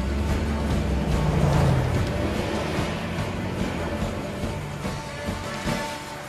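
A four-wheel-drive vehicle's engine drones steadily on rough, bumpy ground, a continuous loud rumble close by with no talking.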